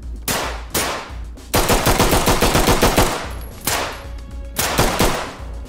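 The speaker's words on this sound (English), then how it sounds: "Yeah, they shot me. He's only shooting the fish tank." Gunfire in the tactical shooter Ready or Not is aimed at a fish tank: loud bursts of rapid automatic fire with brief gaps, the longest burst in the middle, and no speech over it.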